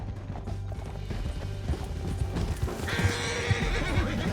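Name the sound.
horse riding in video game Red Dead Redemption 2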